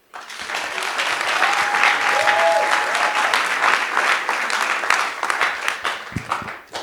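An audience at a jazz music workshop breaks into sustained applause that swells quickly, holds loud and dense for several seconds, then thins out, with a few voices audible in the crowd.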